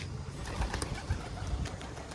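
A pigeon coos nearby in a few low, throaty pulses at an uneven rhythm, heard alone over a soft background hiss.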